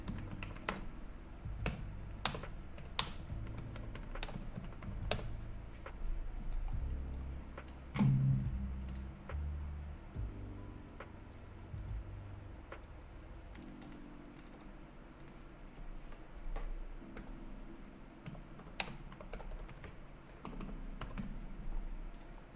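Typing on a computer keyboard: quiet, close key clicks in irregular runs, with occasional louder taps, continuing throughout over a low background hum.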